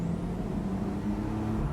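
A Porsche 911 991.2 Carrera S Cabriolet engine heard from inside the car during a paddle-shift downshift, a steady low throaty drone with a slight rise in revs, continuous and fairly loud, with no talking.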